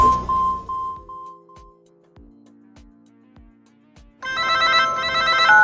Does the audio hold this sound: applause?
no